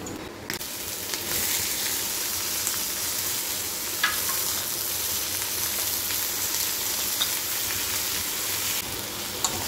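Onions, tomatoes and ginger-garlic paste frying in a pan for a bitter gourd masala curry, a steady close sizzle with occasional stirring clicks throughout.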